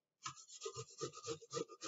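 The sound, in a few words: grating with a microplane grater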